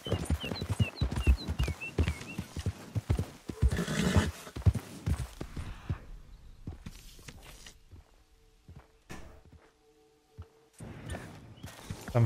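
A horse whinnies over a run of clip-clopping hooves in the video game Red Dead Redemption II, then steps slow to sparse, separate thuds with quiet gaps between.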